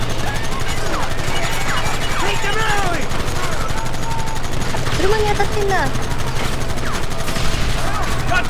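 Dense, continuous gunfire from a Red Dead Redemption shootout crackles loudly throughout, with rapid overlapping shots and a voice speaking over the battle.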